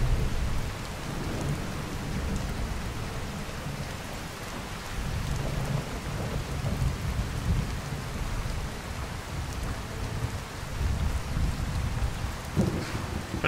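In Skyrim, a thunderstorm with heavy rain keeps up a dense, steady downpour under rolling low rumbles of thunder, continuous and loud throughout with no speech.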